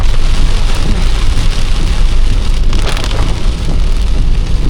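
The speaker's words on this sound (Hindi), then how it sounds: "भाई साहब बहुत ही घनघोर बारिश, बहुत मजा आ रहा है भाई।" Heavy downpour during a road trip from Surat to Nashik on a riverside road, a loud, steady wash of rain drumming without a break for the whole stretch, with no talking.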